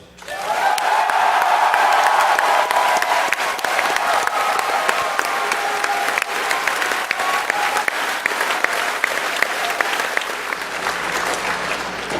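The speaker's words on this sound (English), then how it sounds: "let's give a big round of applause for Ryan Davis." Sustained applause from a large audience, steady and loud throughout with dense clapping and some crowd noise.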